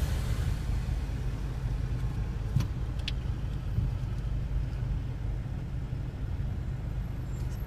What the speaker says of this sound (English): This is an electric BMW.